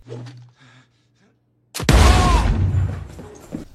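A single loud gunshot from the action film Nobody cracks suddenly after a near-silent pause, followed by a booming, decaying rumble and scattered noise, with brief talk before it.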